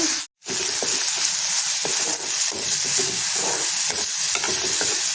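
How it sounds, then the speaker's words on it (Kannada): Chopped cluster figs being mixed by hand with salt, a steady scraping, rustling stir with soft irregular knocks, close and continuous with no talk. "ಉಪ್ಪು ಹಾಕಿ ಕಲಿಸಿ"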